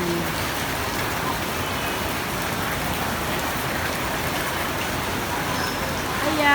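Steady rain falls and patters on surfaces outdoors in an even, dense hiss, with faint voices underneath at times.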